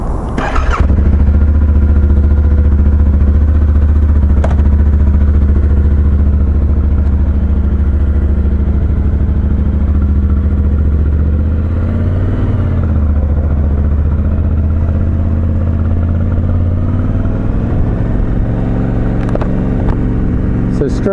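A Yamaha Tenere 700 motorcycle engine runs continuously while riding on the road, a loud, close, steady low drone with occasional rises in revs.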